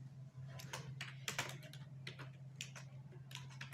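Computer keyboard typed while writing C++ code: quick bursts of close, crisp key clicks over a steady low hum, with no talk.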